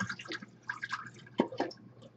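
Water dripping and splashing from a RODI filter housing being emptied over a towel or sink, a few close, irregular drips and small splashes with quiet gaps between them.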